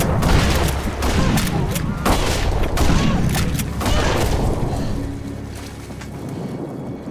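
A rapid burst of gunfire is fired at sharks in the film Sharknado, with several sharp shots over a loud, churning backdrop of wind and water that fades toward the end.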